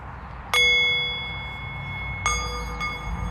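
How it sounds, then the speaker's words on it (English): A meditation bell struck twice, each strike a bright, clear ring with a long shimmering sustain that fades slowly, the second strike following about two seconds after the first, heard alone. "Yeah, meditation bell."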